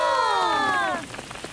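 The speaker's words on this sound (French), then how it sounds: "C'est officiel, j'adore la pluie." Rain falls steadily in a cartoon, a soft, even patter under a clear tone that slides downward for about a second before the shower carries on alone.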